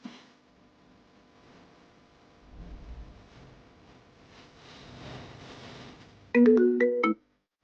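A phone ringtone sounds loud and close for under a second near the end of the stretch, in a quiet indoor setting after a goodnight farewell, with faint background noise before it.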